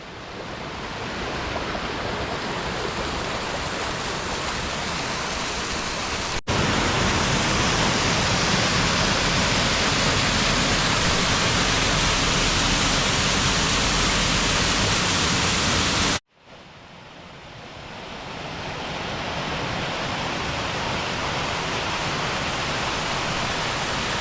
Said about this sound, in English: try to get some views of the waterfalls